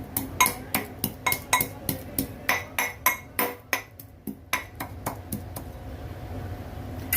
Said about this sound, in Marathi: लसण पाकले आहेत ह्याला मी सोडलेले नाही आहेत कारण शेतावरती असंच घालतात कालवण तर मी ठेसून घेते खलबतामध्ये